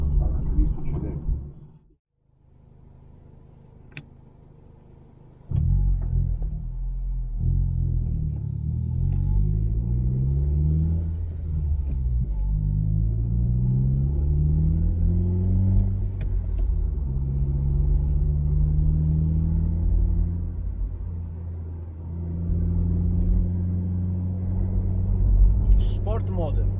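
A Honda CR-Z fitted with a Spoon N1 exhaust and sub silencer rumbles deep and steady, rising and falling through gear pulls after a brief quiet start, loud and close with a voice speaking over it.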